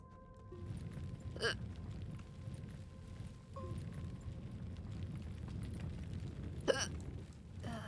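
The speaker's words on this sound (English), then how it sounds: "I got the hiccups" A person hiccups twice, sharp sudden catches several seconds apart, over a steady low rumble of background noise with no talking.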